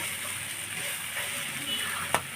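Spices and chili powder stir-fried in a pan for an egg curry give a steady, close sizzle with a soft scrape of stirring near the end.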